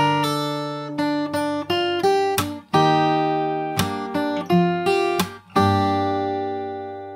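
Fingerstyle acoustic guitar plays the outro of the Pokemon theme song alone, with plucked notes and strummed chords in a lively rhythm, ending on a long ringing chord.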